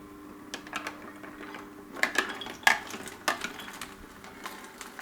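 Almond mixture ladled into a Sana 828 juicer with a fine screen fitted and the pulp flap closed, producing soft clinks and taps of the ladle against metal and plastic in scattered close hits over a quiet motor hum.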